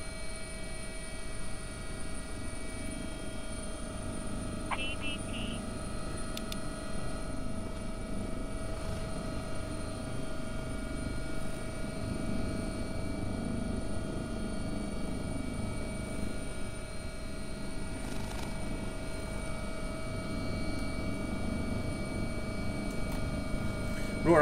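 Steady whirring rotor drone of an AW-139 air ambulance helicopter in a flight simulator, continuous and even throughout with a constant tonal hum over it.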